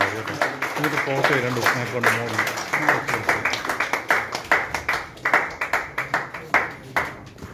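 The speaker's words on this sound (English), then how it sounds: "Let's give a big round of applause." A crowd claps at a commerce teachers' award ceremony in Kerala, brisk rhythmic clapping that runs under a person speaking over a microphone.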